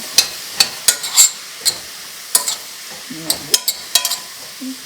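Vegetable green curry with a little vegetable stock, stirred in a pan: loud, irregular scraping and clinking strokes of the utensil against the pan, with a faint bubbling simmer between them.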